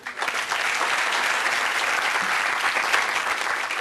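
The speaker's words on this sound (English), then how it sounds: "Let's give her a round of applause." A crowd gathered for a Tanger Outlets groundbreaking claps for Councilwoman Karen Tolles. The applause rises quickly at the start, then holds as a full, continuous patter of many hands, with no clear speech over it.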